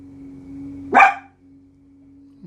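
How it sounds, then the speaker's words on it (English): A single sharp dog bark rings out close by over a steady low electrical hum, with quiet room tone before and after. "Peanut, you can quit barking."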